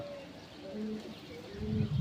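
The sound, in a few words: pigeons for sale, cooing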